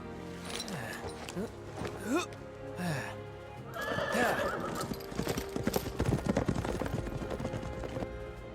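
In a Dynasty Warriors 9 battle, hooves clip-clop rapidly in a galloping rhythm as a horse whinnies loudly, with voices shouting underneath.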